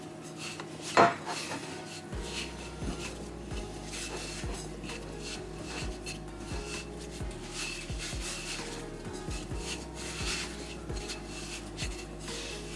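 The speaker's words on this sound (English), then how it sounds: "So get your hands in there and knead your dough." Dough for Jamaican Saturday soup dumplings kneaded by hand on a plate, a close rhythmic rubbing and scraping with soft regular thumps of the plate, plus one sharp knock near the start.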